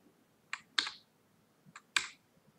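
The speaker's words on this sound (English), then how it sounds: "You can switch between layouts by pressing the function keys on your keyboard." Function keys pressed on a computer keyboard, four separate clicks in two pairs, crisp and close in a quiet room.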